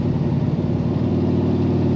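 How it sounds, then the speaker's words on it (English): A 1933 Plymouth 5-window coupe street rod accelerating, its exhaust giving a steady low rumbling drone heard from inside with the windows up, constant and fairly loud throughout. "you can hear that awesome exhaust sound"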